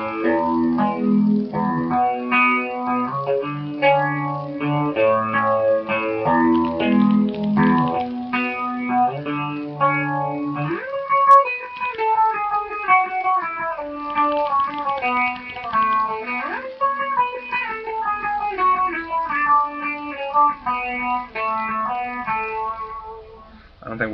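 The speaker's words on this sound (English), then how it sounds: "I'm going to use my nano clone and small stone phaser first, so you can see what that sounds like when it's used together" Electric guitar riffs played through an EHX Nano Clone chorus and Small Stone phaser together, a warm swirling chorus-and-phase tone with low chugging chords giving way to higher arpeggiated lines, loud and continuous with no talking.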